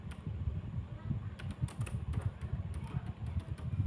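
Typing on a computer keyboard while filling in a multiple-choice quiz form, with a soft run of light key clicks scattered through the clip over a low background hum.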